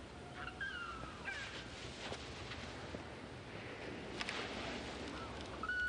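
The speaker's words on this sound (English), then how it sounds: "Wild bird." Wild crow cawing in the distance, a few faint harsh calls over a steady hiss of outdoor background noise.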